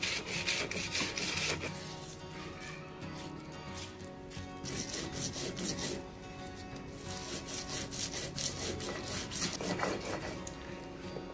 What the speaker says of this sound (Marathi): तर हे वाटून घेऊ आपण चांगलं।